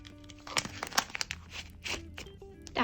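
A paper surprise packet from a Kuromi collection is torn and unwrapped by hand, giving close, quiet crinkling, tearing and crunching in short irregular bursts.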